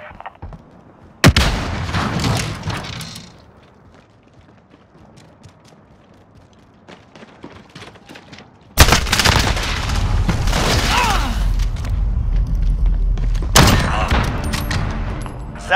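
A bomb detonates with a loud, sudden blast in a Search and Destroy round of a shooter video game, followed by a long, dense stretch of sustained gunfire and further booms.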